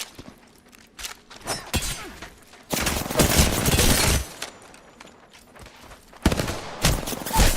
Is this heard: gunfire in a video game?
yes